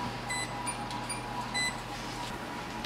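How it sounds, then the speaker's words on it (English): Kitchen timer counting down on sausage rolls in the oven, giving a quick run of faint, high electronic beeps over a steady low hum of kitchen background noise. "I'm going to put the timer on for 10 minutes"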